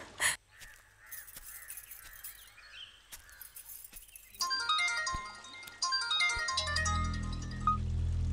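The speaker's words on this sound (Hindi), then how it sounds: "सॉरी एक कॉल आ रहा है" A phone ringtone for an incoming call plays as a bright electronic melody of repeating notes, starting after a few quiet moments of faint sounds and growing louder with a low rumble beneath it.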